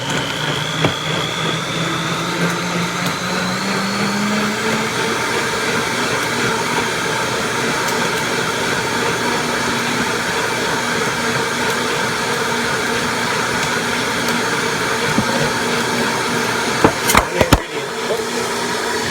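A blender runs steadily on coconut milk, a continuous whirring drone that shifts pitch slightly early on, then holds loud and even before a few clicks and a stop at the end.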